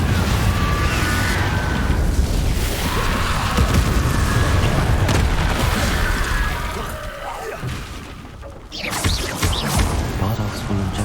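Confringo fire spell explosion in the video game Hogwarts Legacy, a loud blast that rolls into a long crashing rumble and debris, then a second burst near the end, with a voice and game sounds underneath.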